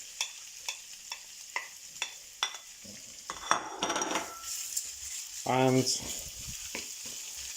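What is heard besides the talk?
minced meat browning in hot oil in a pan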